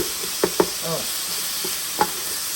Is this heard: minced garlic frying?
yes